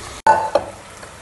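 Ground paste of ginger, garlic, green chilies and coriander dropped into a hot pan for mutton biryani, a brief loud hiss and sizzle after a short pause, fading to a steady frying crackle.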